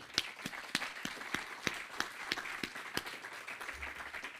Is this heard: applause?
yes